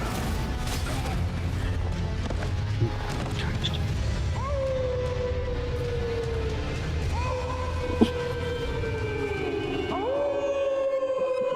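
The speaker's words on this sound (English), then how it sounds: "I know, they're howling" Wolves in the video game Elden Ring giving several long, drawn-out howls that rise and fall, overlapping one another over a low rumbling game background, with people talking faintly.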